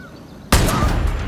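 A soft, muffled gunshot in the video game Far Cry New Dawn, a sudden single burst that cuts in partway through and then rings on as a broad, sustained wash of noise.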